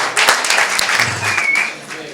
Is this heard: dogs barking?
no